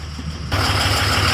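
A Dodge Cummins diesel 4x4 pickup, bought wrecked at auction, turns over and catches, settling into a steady low, rumbling idle, loud and close, with no talking.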